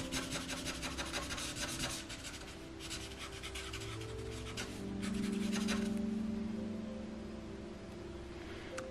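A crayon or pencil rubs and scratches across paper as two lines are drawn, a soft dry scraping in steady strokes, faint and close, with a low hum in the background and no speech.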